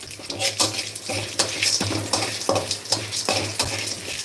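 Snake gourd stir-frying in a pan with green chilli, a steady sizzle broken by repeated scraping stirs of the spatula, loud and close with no talking.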